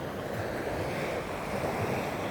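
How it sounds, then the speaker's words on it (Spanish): Sea waves wash in steadily at night, a continuous broad rushing surf with soft swells and some wind noise, fairly close and alone with no voices. "escuchando las olas del mar"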